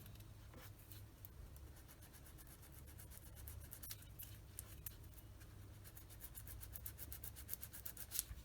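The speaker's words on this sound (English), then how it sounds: "there are some shallow ejector pin marks here. I'm going to sand those out just like that" Sandpaper rasps against a plastic part of a Tamiya 1/35 Panzer 38(t) model kit, smoothing ejector pin marks with steady quiet back-and-forth scratching strokes close up.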